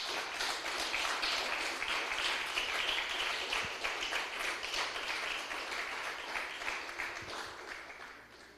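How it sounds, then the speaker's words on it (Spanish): A church congregation claps together in praise, a steady, dense burst of many hands at moderate level that holds for several seconds and then eases off near the end. "Déselo fuerte el aplauso al Señor"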